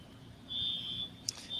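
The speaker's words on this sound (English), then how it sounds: "fire alarm in the back" A fire alarm sounds faintly in the background as a steady high-pitched tone, held continuously for over a second in an otherwise quiet room.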